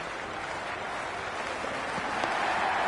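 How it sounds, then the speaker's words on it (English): Stadium crowd in the Cricket 26 video game during an Ashes Test in Australia, a steady buzz of applause and murmur that swells slightly toward the end. "There's a buzz, a real buzz coming from the stands."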